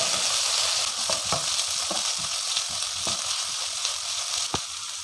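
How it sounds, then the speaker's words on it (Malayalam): Crushed ginger, crushed garlic, green chillies and curry leaves sauté in a pan with a loud, continuous sizzle, broken by scattered spoon scrapes and pops. "1 ടേബിൾ സ്പൂൺ ഇഞ്ചി ചതച്ചതും 1 ടീസ്പൂൺ വെളുത്തുള്ളി ചതച്ചതും 4 പച്ചമുളകും കുറച്ച് കറിവേപ്പിലയും ചേർത്ത് നന്നായി വഴറ്റിയെടുക്കാം."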